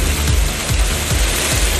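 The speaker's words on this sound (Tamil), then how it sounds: "இரவு பலத்த காற்றுடன் 1 மணி நேரம் கனமழை கொட்டியது" Heavy rain pouring down at night with strong wind in a Tamil Nadu town, a loud continuous hiss of downpour with faint rhythmic low thumps underneath.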